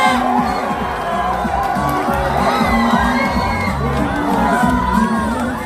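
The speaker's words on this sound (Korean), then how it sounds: "힘찬 박수 부탁드립니다." A crowd at a Paju election campaign rally cheers and applauds loudly and steadily. Whoops and children's shouts ride over a dense, continuous roar.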